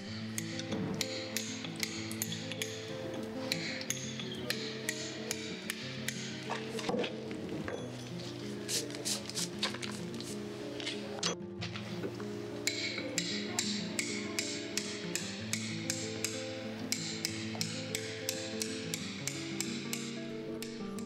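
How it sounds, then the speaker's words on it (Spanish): A toothed chisel strikes stone as a carver smooths a flat surface, giving a steady run of sharp metallic taps, close and fairly quiet, with a brief pause midway and no voices. "Con la gradina o cincel dentado, eliminamos la rugosidad dejada por el puntero"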